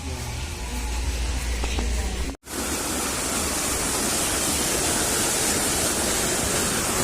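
Water rushes at the dam near Coban Talun waterfall in Batu, Malang, a steady broadband roar that briefly cuts out, then returns louder and closer.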